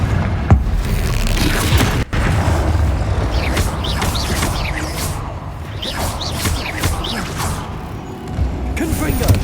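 A Confringo fire spell exploding in the video game Hogwarts Legacy, booming blasts with whooshing and mechanical creaks, repeated several times at close range amid busy game sounds.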